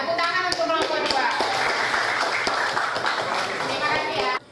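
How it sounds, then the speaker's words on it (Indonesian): A classroom claps for group 2, a brief scatter of hand claps under a teacher's voice and children's chatter. The clapping stays loud and near for about four seconds, then stops abruptly. "tepuk tangan untuk kelompok 2"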